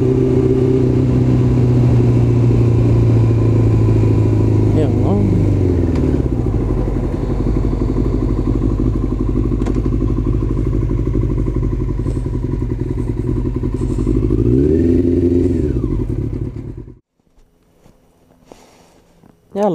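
A Yamaha R6 sport motorcycle idles loudly close by, a steady engine drone with two quick revs before it cuts out, and then a few faint clicks follow.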